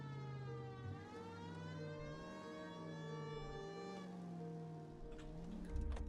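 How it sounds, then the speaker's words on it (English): A wailing hearse siren in the game L.A. Noire rises and falls in repeated sweeps, loud and continuous, with a low engine rumble beneath and no talking. "This hearse has a siren."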